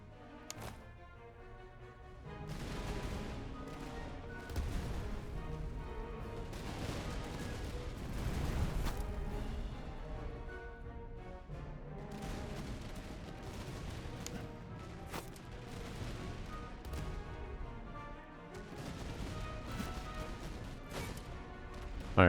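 Musket volleys and artillery fire in the Master of Command game form a continuous distant rumble of crackling, overlapping shots and thuds, swelling and easing in waves over a low background.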